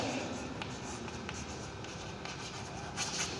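Chalk or marker scratches across a board during a physics lecture, a continuous close scraping with short strokes and taps that comes and goes, with no talking.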